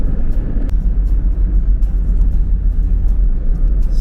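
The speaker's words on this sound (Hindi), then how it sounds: "ये जो टार रोड होता है, डाबर का रोड, वो काफ़ी अच्छा स्मूथ चलती है उस पर गाड़ी।" A Mahindra Bolero Neo cruises on a smooth tar road, giving a steady deep rumble of engine and tyres with a single brief tick early on and no talk.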